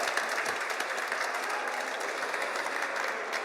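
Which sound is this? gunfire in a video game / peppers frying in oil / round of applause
round of applause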